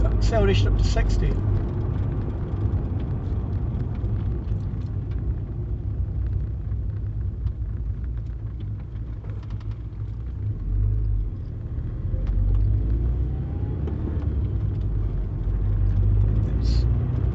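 An MGF sports car's small engine pulls hard toward 60 mph round a bend, a steady loud low rumble and drone from inside the cabin that builds and holds throughout, with a faint voice over it.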